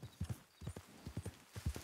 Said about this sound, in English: He has a herd of horses, and or goats, anyway.